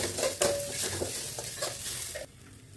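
Curd with curry leaves being lightly sautéed in a pan: soft sizzling with repeated scraping stirs and light utensil clinks, close by and moderately quiet, ending abruptly.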